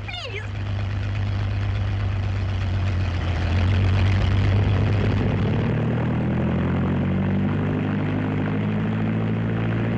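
Propeller test plane engine roaring loudly as it takes off, a sustained, dense drone that swells in the middle, with voices faintly underneath.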